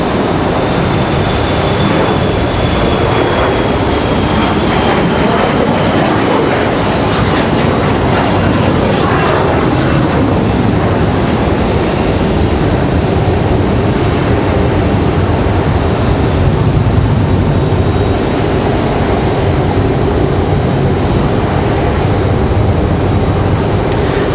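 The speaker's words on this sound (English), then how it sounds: "JetBlue getting out on the runway already, ready for their departure as well" JetBlue jet airliner moving onto the runway for departure at Raleigh-Durham International Airport, a continuous loud engine roar and whine that holds steady throughout, heard from nearby with no voices.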